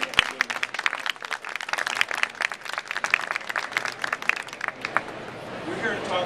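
An audience at a university biopark CEO panel breaks into sustained applause, many hands clapping steadily and fairly close, fading out near the end as a voice begins talking.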